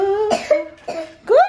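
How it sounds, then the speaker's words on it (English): A boy coughs in three short bursts, the last one strained and rising, sounding close to the listener in a quiet indoor room. "What you coughing for?"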